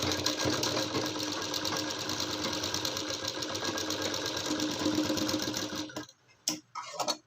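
A sewing machine stitches fabric for a young girl's kurti, a steady close mechanical whir with fast rhythmic needle ticking for about six seconds, then it stops, leaving a few faint clicks and handling sounds.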